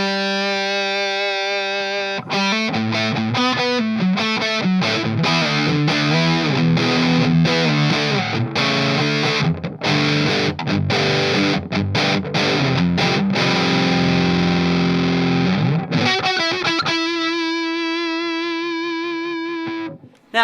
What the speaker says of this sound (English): the Big Muff special